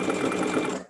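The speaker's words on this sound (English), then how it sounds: "sew the halves together" A sewing machine joins quilt pieces with a scant quarter-inch seam, a brief, fast, close whir of stitching that trails off at the end.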